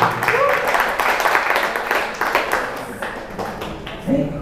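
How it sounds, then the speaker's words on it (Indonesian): Scattered applause from an audience of high school teachers at a school in-house training session, uneven claps mixed with murmuring voices and brief indistinct talk. "boleh tepuk tangan lagi?"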